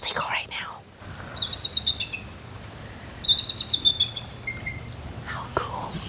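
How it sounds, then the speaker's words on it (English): Bald eagle calling in a Central Florida wildlife park: two bursts of high, thin, chattering piping notes, moderately distant, over steady outdoor ambience with soft whispering voices at the start and end. "You're listening to the bald eagle right now."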